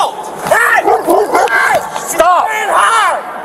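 A loose off-leash dog barks and yelps a few times amid shouting people during a tense police confrontation outdoors, the barks mixed into loud overlapping voices.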